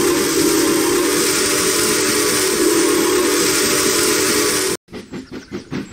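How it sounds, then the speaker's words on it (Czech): In the Trainz 2019 train simulator, a loud steam whistle blows continuously for several seconds, then cuts off as rhythmic chuffing puffs of a steam locomotive begin pulling away. "Nicméně tady to vidíte, vlak nám pomalu vyjíždí."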